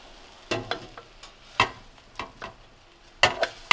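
Chopped leeks and other vegetables land in a hot pan and stir against it, giving a series of sharp sizzling bursts and scrapes, about eight irregular hits, close and fairly loud between quiet pauses.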